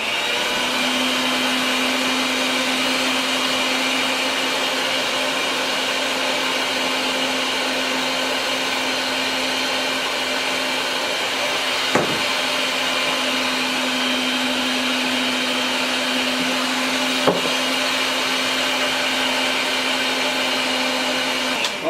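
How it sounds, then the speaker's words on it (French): An electric mixer beats oat and maple cookie dough as a steady, loud motor whir with a constant hum that runs unbroken for over twenty seconds, broken by two brief clicks. "on va repartir le batteur. Attention au bruit."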